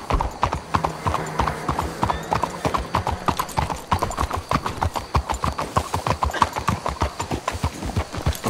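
Horses' hooves clip-clop steadily in Red Dead Redemption 2, a brisk, even rhythm of close, crisp hoofbeats from more than one horse, with faint background tones and a brief whinny-like sound early on.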